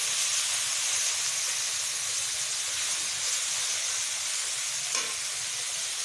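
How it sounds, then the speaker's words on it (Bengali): Onion flower stalks frying in oil with salt and turmeric in a covered pan, a loud, steady sizzling hiss that holds the whole time with one faint clink near the end. "তেল দিয়ে পেঁয়াজের কালিগুলো দিয়ে সামান্য লবণ হলুদ দিয়ে ঢাকা দিয়ে দিলাম।"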